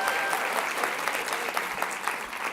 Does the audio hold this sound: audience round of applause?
yes